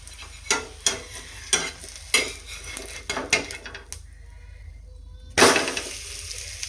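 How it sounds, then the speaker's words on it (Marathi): Spicy veg bread cooking in a pan as the lid comes off and the bread is flipped, with a string of sharp metallic clatters and scrapes of utensil on pan, then a louder burst of sizzling frying near the end. "आपण झाकण काढू आणि ह्याला ना दुसऱ्या साईडने पलटी करून घेऊया."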